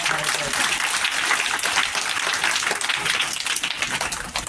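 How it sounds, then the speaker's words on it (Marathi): An audience at a Marathi-medium district council school event claps together to thank the guests, a dense, steady burst of applause lasting the whole moment, with some voices mixed in. "आपण त्या सगळ्या साहेबांचं आपण टाळ्या वाजून आभार व्यक्त करू"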